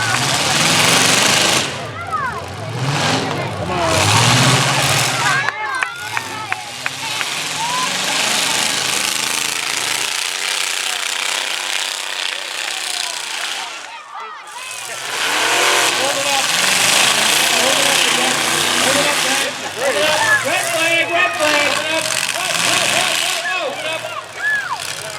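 Skid loaders at a county fair demolition derby, loud rough engine roar and clattering with a quieter idling stretch midway, while a voice talks over a loudspeaker throughout.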